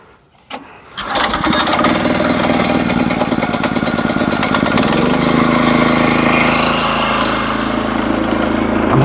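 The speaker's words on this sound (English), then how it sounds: "Cold engine. Gas is already on. I should have turned the gas off overnight. Hope it starts." A cold gas engine on a kinetic log splitter cranks briefly, then catches and settles into a loud, steady running drone that continues to the end.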